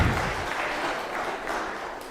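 An audience at a church justice ministries forum breaks into clapping, a loud, dense burst of many hands that continues evenly throughout, close and filling the room.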